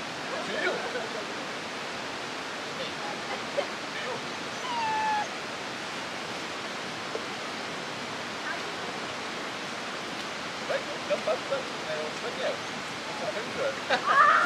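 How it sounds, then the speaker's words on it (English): A waterfall rushes in a steady, broadband hiss throughout, with faint people's voices and small sounds surfacing briefly over the constant flow outdoors on a family dog walk. "You enjoying the waterfalls, Nora?"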